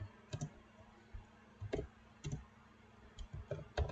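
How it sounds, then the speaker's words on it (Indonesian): Keys clack on a computer keyboard in scattered taps and small clusters, quiet and close, with no voices. "di sini misalnya kita ketik"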